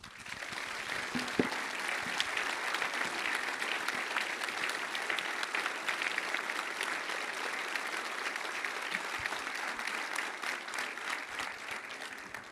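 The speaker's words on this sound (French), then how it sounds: "je pense qu'on peut les applaudir très fort" A conference audience at a congress at Puy du Fou applauds round table participants, a dense, steady wash of clapping from many hands that holds evenly and fairly loud throughout, without a break.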